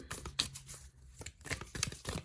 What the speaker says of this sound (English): we'll give them another quick shuffle on camera